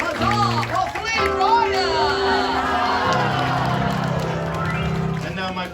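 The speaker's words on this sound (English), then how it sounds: "And let us have a hearty huzzah for Flea" A theatre audience at a Tangled stage show at Disneyland's Royal Theatre cheers and shouts a huzzah, with children's voices rising among the crowd under an announcer's talk.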